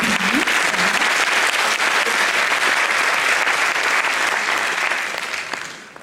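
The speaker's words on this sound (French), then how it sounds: "Vous pouvez les applaudir." Sustained audience applause at an evening school event, dense continuous clapping at a steady level that fades away over the final second.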